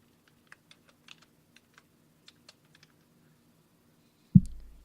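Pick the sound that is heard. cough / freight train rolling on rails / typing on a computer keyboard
typing on a computer keyboard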